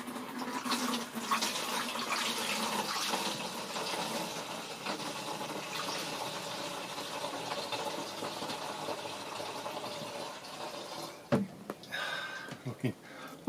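Old, blackened diesel fuel is poured out of a container, making a continuous gushing, splashing stream for about eleven seconds before a few soft knocks and handling sounds close by.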